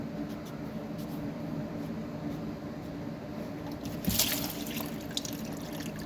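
Engine oil runs out of the opened oil filter housing on a 2022 Hyundai Kona 2.0L, a steady trickle and drip that holds even throughout, with a brief splashy burst near the end.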